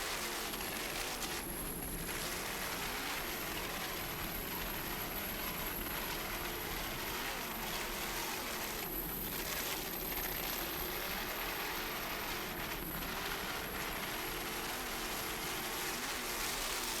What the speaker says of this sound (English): A lot of flying going on there with Instigator, Joe Scrow, Benny Alfonso